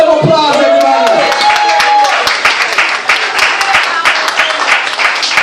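An audience at a DJ event breaks into dense, sustained applause and clapping, loud and close, with voices and cheering mixed in across the whole stretch.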